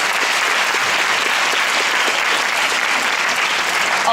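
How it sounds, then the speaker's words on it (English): Steady, dense applause from a large audience for performers at an awards ceremony, continuous and loud throughout with no talking. "A big round of applause for all the performers tonight."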